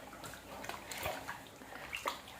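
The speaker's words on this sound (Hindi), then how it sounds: "अब मैं इनमें हाथ पैर डालती हूँ 5 से 10 मिनट के लिए" Hands and feet soak and move in a tub of water, giving soft, quiet sloshes and splashes with small bursts of dripping and swirling against a faint background hiss.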